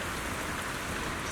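Steady heavy rain falls in Zenless Zone Zero, a dense even hiss of drops on surfaces that continues unbroken and fairly close, with no voices.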